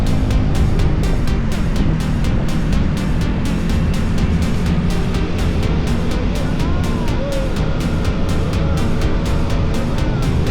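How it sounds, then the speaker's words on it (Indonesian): Motorcycle exhaust droning steadily while touring mountain roads near tea plantations, a continuous loud engine rumble mixed with wind rush, with no breaks. "Suara knalpot berpadu dengan alam."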